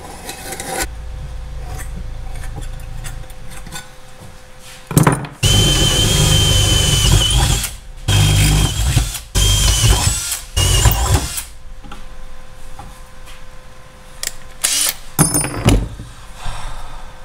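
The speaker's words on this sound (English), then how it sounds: "I'm going to drill the holes in the runners" A power drill bores holes in the runners of an inlet manifold in a home garage, in loud whirring bursts with short pauses between them and rough grinding as the bit bites.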